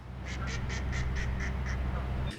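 Abandoned domestic ducks at a lake quack in a quick series of about eight calls, fairly distant and moderate in loudness over a low background rumble.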